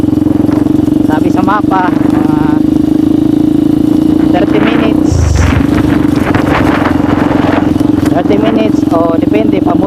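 A motorcycle rides along on a hot day at a calm, steady pace, its engine droning loud and constant close by, with someone talking over it throughout.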